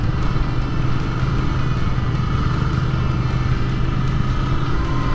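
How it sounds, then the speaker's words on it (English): Steady engine drone of a Royal Enfield Continental GT 650 motorcycle on a test ride, a constant mid-pitched rumble with road and wind noise and no pauses. "So I'm riding with Royal Enfield today."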